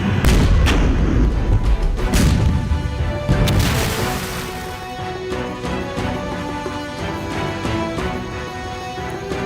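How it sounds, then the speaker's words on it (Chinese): Vehicle-mounted weapons on armored combat vehicles fire a blocking barrage across a river in a military drama battle scene, with a rapid series of loud booming blasts at the start that give way to a long rumbling, ringing decay. "2连3连机步兵各战车车载火力实施拦阻射击"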